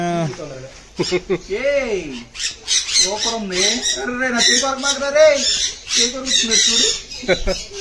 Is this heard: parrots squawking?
yes